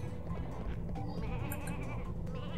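Sheep bleating in the Ratchet & Clank 2 video game, a loud wavering bleat that carries on steadily over game background sound.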